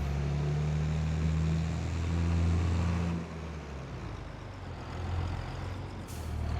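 Tractor engine labouring in Farming Simulator 22, a loud, steady low drone that strains and holds for several seconds, then drops to a lower, rougher rumble before swelling again.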